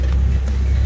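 Steady low engine drone and road rumble fill the cabin of a Volkswagen Golf GTI Mk2 while driving, loud and continuous for under a second, with no voices.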